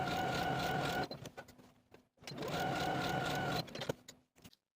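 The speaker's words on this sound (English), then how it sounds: "I'm going to take it to my sewing machine and sew basting stitches along those side seams" A sewing machine runs basting stitches along fabric side seams in two bursts of steady whirring, each about a second long, with short pauses, handling clicks and fabric shuffling between them.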